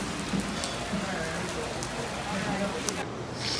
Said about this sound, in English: Imagine that, it's raining in Florida.